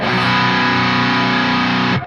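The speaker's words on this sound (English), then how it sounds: "He loves these sus2 chords, and it has such a great sound with distortion." Heavily distorted electric guitar sounds a sustained sus2 chord riff, loud and dense, ringing alone for about two seconds before cutting off.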